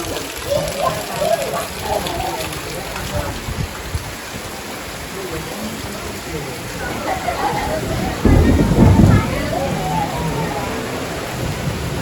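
Steady heavy rain hisses throughout during a May windstorm in a Konkan village, with a deep rumble of thunder swelling near the end; voices murmur faintly underneath.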